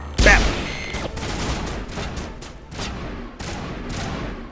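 Gunfire in the Mass Effect video game on the Virmire mission: a loud opening blast followed by repeated bursts of automatic weapon fire at irregular intervals, fairly close and sustained.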